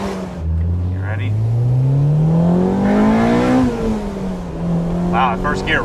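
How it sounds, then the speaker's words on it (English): A JDM B18C-swapped 2000 Honda Civic Si revs up quickly in first gear with the roof open, its engine note climbing steadily to a high pitch and then dropping, loud and close inside the cabin. "Wow, first gear revs up quick."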